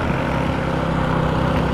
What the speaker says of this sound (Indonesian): Knalpotnya ya berisik sekali itu.